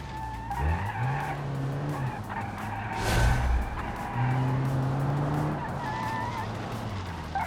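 A car in the BeamNG racing game brakes hard into a turn, tires squealing and skidding in sustained bursts over a steady engine drone, loud and close throughout.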